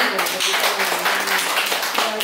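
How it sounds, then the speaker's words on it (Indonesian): Hands clap steadily in a room during a reproductive health and stunting session for prospective brides, applauding a discussion group. The quick, dense claps run throughout at moderate loudness with faint voices beneath. "Tepuk tangan lagi"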